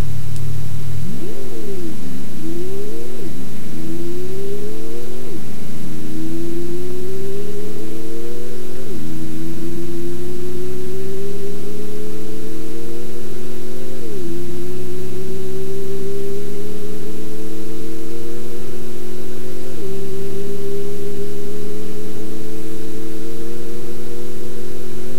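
Synthetic car acceleration effect built in WavePad Sound Editor from a race car drive loop, a steady engine tone climbing in pitch through repeated gear shifts, each shift dropping the pitch before it rises again, loud and continuous with no talk.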